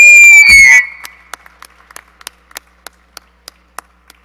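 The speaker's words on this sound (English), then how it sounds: "let's give them a big round of applause as they make their way back to the dais" At an award ceremony for Gagliardi Trophy finalists, a loud whistle opens, then single claps follow one by one at an even, unhurried pace, sharp and fairly close, never building into full applause.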